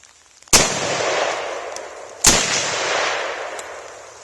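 Two loud, sharp rifle shots from a Yugoslavian M59/66 SKS-45 in 7.62x39mm, fired outdoors at a jug hanging in a tree, each crack followed by a long rolling echo, spaced about two seconds apart.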